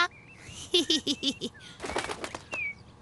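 A quick flurry of small wings flapping close by, following a few bright chirps, then fading as the bird flies off.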